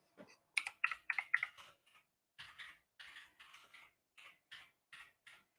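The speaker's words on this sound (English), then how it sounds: "Love my keyboard, by the way. It's noisy," A noisy computer keyboard clacks in quick bursts of keystrokes, close and crisp in an otherwise quiet room, with short pauses between clusters of taps.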